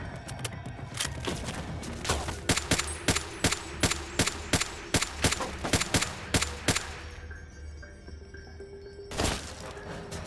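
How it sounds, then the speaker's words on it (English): Gunfire in Fallout: Tale of Two Wastelands rings out as a long run of sharp, loud single shots at an irregular, fairly quick pace, close by over a steady background hum, ending with one last shot after a pause. "Whoa, who else is shooting?"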